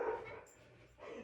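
A small dog gives a short whimpering yip, a brief faint sound indoors, heard alone without talk.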